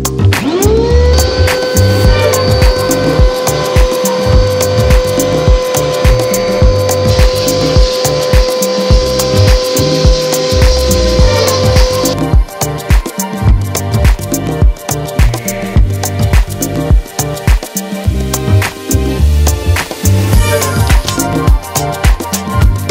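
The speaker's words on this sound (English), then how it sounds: "as you're blasting, you can just sift through it, and it just cleans it all within a couple minutes" Dirty BMW E31 suspension parts being media blasted inside a blast cabinet: a loud, continuous hissing roar with gritty rattling throughout, and a steady whine over the first half.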